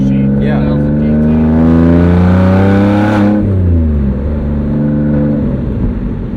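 A Rolls-Royce Wraith engine revs up through the gears, its steady drone rising in pitch and dropping at a shift before climbing again, loud and close from inside the car.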